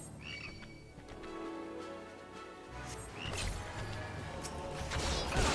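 A giant frog croaks in a video game, a couple of deep gurgling croaks rising over a busy, noisy game soundscape with occasional crashing hits.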